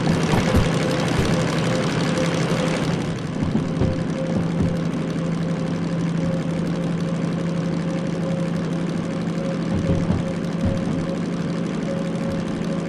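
Diesel locomotive engine in the train game Derail Valley, hauling a heavy 900-tonne consist in realistic mode: a loud, steady low drone with a constant hum throughout, no speech.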